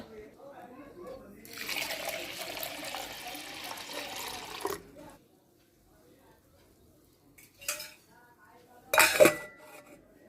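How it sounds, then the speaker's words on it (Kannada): Water pours steadily into a bowl of lentils for a few seconds, followed by quiet, then two brief clinks of a vessel being handled. "ಇವಕ್ಕೆ ನೀರು ಹಾಕೋಣಂತ"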